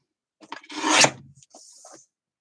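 Printed paper card being trimmed with a cutter, a short close rasping slide rising to a sharp peak, followed by a couple of quieter scrapes and rustles, all within about two seconds.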